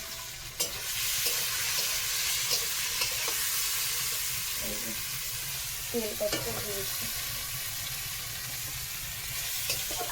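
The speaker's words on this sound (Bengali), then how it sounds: "এই দেখো পটল ভাজা হচ্ছে" Steady sizzling of pointed gourd frying in a pan, a constant hiss with occasional soft scrapes and pops, close by and without talk.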